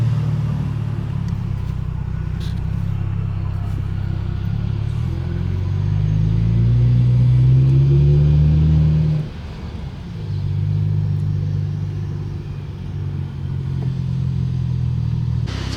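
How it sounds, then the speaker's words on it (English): A BMW 640i driving along, its engine a steady low rumble heard from inside the car. The rumble swells briefly, dips for a moment and then settles back to a constant drone with no talking. "the car is driving perfectly fine"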